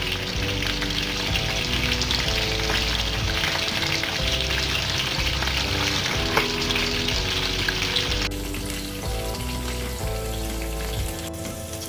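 Prawns fry in a hot pan for a crispy prawn fry, a dense continuous sizzle and crackle heard up close, steady throughout with a slight drop in intensity near the end, no talking.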